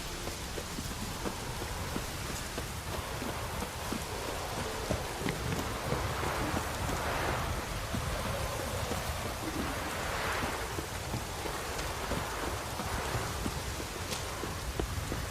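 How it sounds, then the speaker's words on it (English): Steady, heavy rain in The Witcher 3: Wild Hunt pours down continuously in a dense hiss, with a low rumble underneath and no voices. "Raining fucking buckets."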